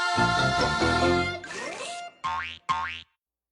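A cartoon boing made by a voice imitating a springy bounce: a long wobbling tone, then two short rising twangs, close and loud with no talk.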